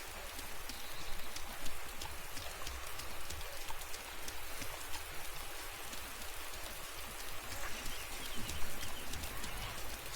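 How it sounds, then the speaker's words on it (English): Rain falling in the video game DayZ: a steady, even hiss of rainfall with dense patter lasts the whole stretch at moderate level, without any voices. "It's just weird how it rains and it's kind of sunny."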